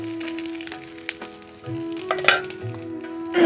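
Onion, garlic, ginger and tomato fry in a hot pan with a steady close sizzle, broken by a few stirring scrapes and a louder crackle near the end.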